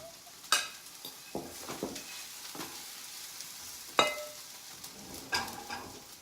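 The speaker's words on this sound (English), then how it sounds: "while the veggies are sauteing" Vegetables sauteing in a pan for a healthy breakfast, giving a soft steady sizzle with a few sharp clinks and scrapes of stirring, close by with no talk.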